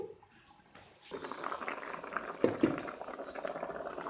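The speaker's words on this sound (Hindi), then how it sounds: "ढक्कन बंद करके बॉयल आने का इंतजार करते हैं।" Water bubbles and churns in a covered pot at a steady rolling boil, close and continuous, with no voices, heating for chicken pulao rice.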